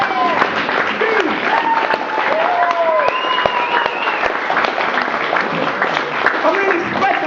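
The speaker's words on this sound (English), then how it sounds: "Okay, Dean, everybody! Give it up!" An audience at a poetry open mic applauds loudly and steadily throughout, with scattered cheers and whoops rising above the dense clapping.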